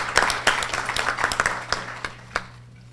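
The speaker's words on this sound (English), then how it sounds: "Please give her another round of applause." Audience applause after a speaker at a Manatee Tiger Bay event on immigration, scattered claps fading out over a few seconds, moderately loud in a room.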